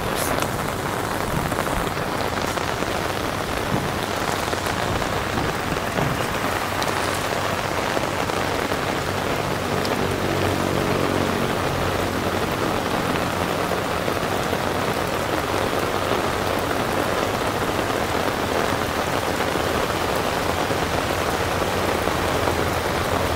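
Heavy, steady rain pours down continuously, a dense hiss of drops drumming on a surface, close and loud throughout with no talking.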